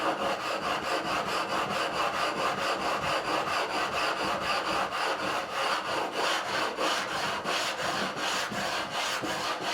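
The neck of a Warwick Corvette Double Buck bass is smoothed by hand with steady, rapid abrasive strokes, a continuous close scratching rhythm that runs without pause and without voices.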